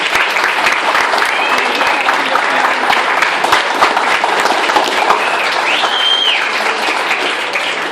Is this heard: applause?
yes